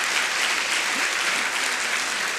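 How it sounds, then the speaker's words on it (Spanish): An auditorium audience at a colloquium applauds in a steady, even wash of clapping, heard from a little distance and holding at one level throughout. "Este aplauso de todo el auditorio para vos."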